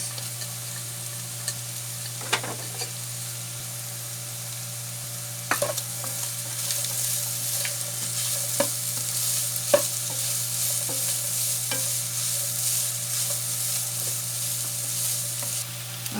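Carrots stir-fried in a hot pan for chicken lomi, a steady sizzle with occasional scrapes and taps of a utensil against the pan, close and continuous with no talking.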